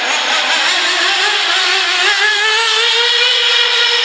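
An O'Donnell RC model engine runs steadily during break-in, giving a loud, continuous high-pitched buzzing whine with a slight rise in pitch and no pauses, close to the listener.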